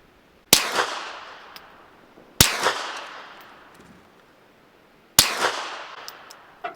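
Three suppressed gunshots fired through a wet Omega 9K suppressor, each a sharp, loud crack with a short decaying tail, spaced roughly two seconds apart with no talking.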